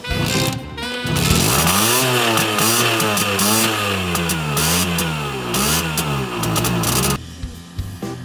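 An East German S50 moped engine runs close by. It revs up and down in a steady, buzzing drone with rising and falling pitch, and no voices are heard.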